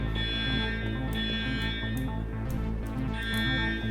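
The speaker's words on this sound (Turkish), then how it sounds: "Hala alarm çalıyor. Hayvan gibi çalıyor hem de şu an." An alarm in the Minecraft video game rings steadily, a loud continuous high buzzing tone with a pulsing low hum beneath, sustained for the full few seconds with no talking over it.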